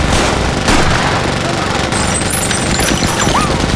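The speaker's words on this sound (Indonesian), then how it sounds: "Bill dan kelompoknya mencoba menembaki Graboid." Film gunfire as characters shoot at a Graboid monster: dense, loud bursts of shots over a rumbling, busy background, with some voices mixed in.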